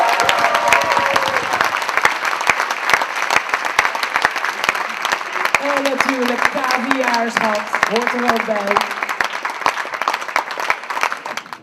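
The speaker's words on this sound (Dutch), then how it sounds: "En daar hoort jullie applaus." Steady audience applause at a women's conference in Europe following an award presentation, dense clapping throughout with a voice speaking over it partway through.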